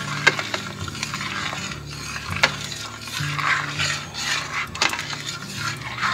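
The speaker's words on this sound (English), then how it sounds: "Give the pot a stir." A spoon stirs a pot of potato soup just after canned milk has gone in, giving scraping, knocking strokes against the pot with a few sharper clinks scattered through.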